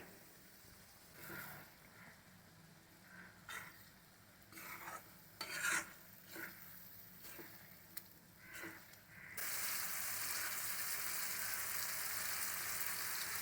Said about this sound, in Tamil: இப்போ இந்த சமயத்தில் நம்ம முட்டையை சேர்த்துக்கலாம். நான் 2 கட் பண்ணி விட்டுருக்கேன்.